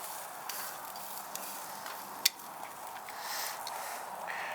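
Porterhouse steak sizzles on a Kamado Joe grill with a steady, soft, close hiss, broken once by a brief sharp tick midway.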